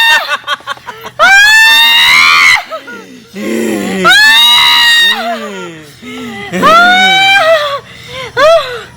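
A person screams in a Maithili comedy skit, with several long, loud, high-pitched wails separated by short gasps and shorter shrieks, up close and dominating the scene.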